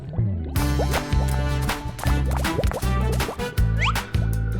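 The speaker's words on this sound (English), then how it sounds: "Today, Daddy Pig is washing the car, and Peppa and George discover lots of bubbles." Water drips and plops in a cartoon scene of a car being washed, with a run of bright, regular droplet splashes and bubbly liquid sounds over a musical backdrop, close and clear, without speech.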